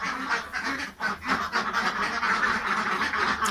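Ducks kept in a pen for egg laying quack steadily and loudly, several birds overlapping in a continuous, busy chorus close by.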